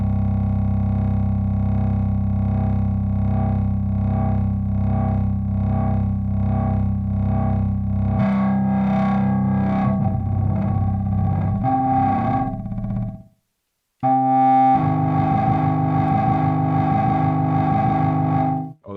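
Elektron Tonverk synthesizer running a wave fold effect, a loud distorted harmonic-rich tone whose folded timbre shifts and grows gritty midway, cuts out briefly, then returns with a buzzy sustained chord.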